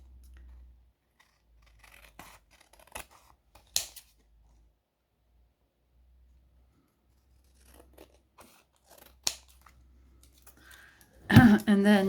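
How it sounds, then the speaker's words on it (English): Scissors snip through paper while faux French lace holders are being made by hand, giving a few sparse, faint cuts and clicks across a quiet stretch, with a voice speaking briefly near the end. "So here are my scissors. I will cut it instead of cutting it with my machine."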